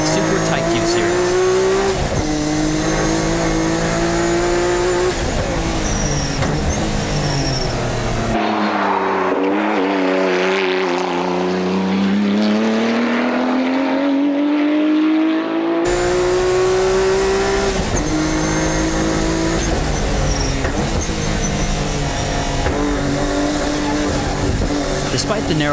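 Group A race car on Yokohama racing slicks lapping a track, engine revving loudly through gear changes with a rising and falling pitch, under continuous commentary.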